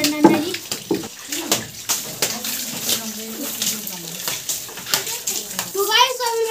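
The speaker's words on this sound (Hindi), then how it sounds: "अभी मैं दे रहा हूँ छत को पानी और साथ में नहा भी रहा हूँ, बहुत ज्यादा गर्म पानी है ये।" Water splashes and pours while someone bathes with very hot water and wets a freshly cemented roof, irregular gushes and splatters sounding close, with voices talking over it.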